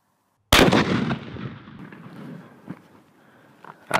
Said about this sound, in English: Now let's see if it passes the GY6 standards with a couple more rounds of these armor piercing 30-06 bullets.